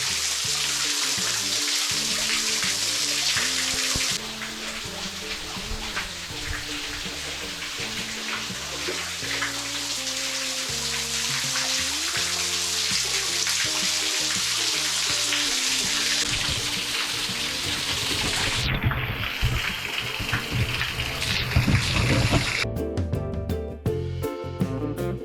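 A waterfall inside a cave in the Wichita Mountains pours out in a loud, continuous rush, with echoing splashes filling the space and no voices.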